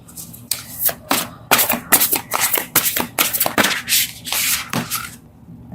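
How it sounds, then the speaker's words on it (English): Large oracle cards being shuffled by hand in repeated bursts, papery riffles and rubs with short pauses between, close to the microphone. "these cards are so big, they're hard for me to shuffle"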